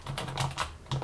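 Computer keyboard keys are pressed in a quick, irregular run of about half a dozen close, crisp taps, with faint background hum.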